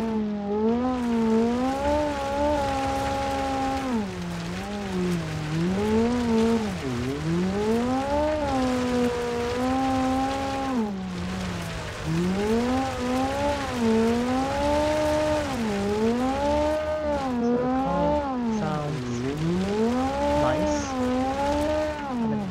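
Rally car driven on dirt in the BeamNG.Drive video game, its engine revving up and down continuously with repeated gear changes and no pauses, loud and steady throughout.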